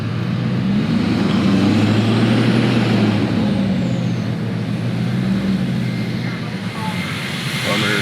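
Chevy Suburban Duramax Predator Quadrasteer truck rolling around a shop lot, a steady low diesel drone and road rumble that stays loud and close throughout, with a brief hiss near the end.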